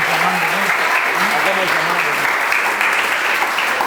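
Congregation applauding during an evening family church service, a full steady wash of clapping while a voice speaks over it.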